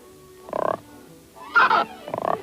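Frogs croaking in a meadow, three short raspy croak bursts spaced apart against a quiet background, fairly close and moderately loud.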